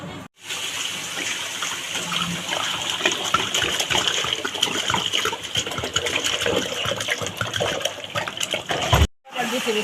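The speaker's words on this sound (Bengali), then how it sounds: "এবার জল দিয়ে দিতে হবে।" Water poured into mung dal with spices for Bengali bhoger khichuri; a continuous close gushing pour with splashing that runs almost the whole time, briefly cut off near the start and end, no voices.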